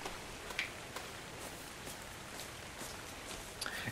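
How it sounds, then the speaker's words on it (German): Steady rain falls during a thunderstorm in the video game ARK: Survival Evolved, a continuous soft patter with a few brighter drop ticks scattered through it, faint and even, with no talk. "Über mir ist natürlich genau eine Gewitterwolke und es regnet bei mir die ganze Zeit."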